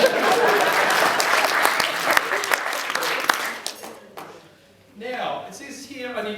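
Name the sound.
wedding guests applauding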